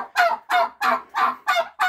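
Bourbon turkeys on a small farm gobble in six loud, evenly spaced bursts, each a harsh rattling call close by with short pauses between.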